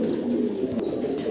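Spanish GNS pigeons coo close by in a low, throaty, repeated burble that carries on without a break.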